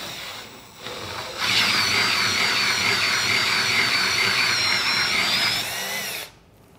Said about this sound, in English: I'm going to engage the drill slowly. And I'm going to face the end of the pipe.